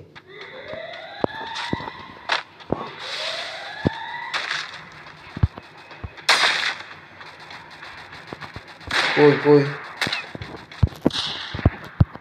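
Gunfire in the mobile battle game Free Fire: sharp, scattered shots crack at irregular intervals, some in quick pairs, over a background of game sound effects, with a brief voice calling out.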